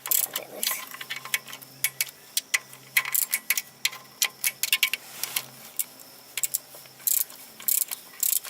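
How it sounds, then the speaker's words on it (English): Torque wrench clicking as transmission pan bolts on a VE Commodore 4L60E automatic are checked to 12 newton meters, a series of sharp, close metallic clicks in irregular bursts, with faint background noise between them. "I'm just going to double check all the torques."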